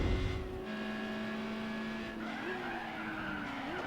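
A 1960s car skids and drives in Gran Turismo 4, its engine droning steadily while tires squeal in drawn-out tones that rise and shift, loud and close with no talk.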